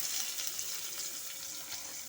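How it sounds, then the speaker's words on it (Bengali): Chopped onion dropped into leftover oil from frying fish, giving a bright continuous sizzle that holds steady and then cuts off abruptly. "এখন আমি ওই তেলের মধ্যেই রান্নাটা করে নেব। প্রথমে দিয়ে দিচ্ছি পেঁয়াজ কুচি"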